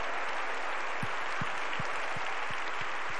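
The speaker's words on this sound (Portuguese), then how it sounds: "Você pode aplaudir o Senhor por isso?" A congregation at a women's worship service claps for the Lord, a dense, steady roar of applause with a few low rhythmic thumps pulsing beneath it.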